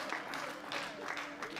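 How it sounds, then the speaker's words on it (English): Audience applause at a women's 76 kg classic powerlifting world championship session, a short burst of steady clapping with some crowd noise mixed in, moderately distant. "join me in giving these ladies a round of applause"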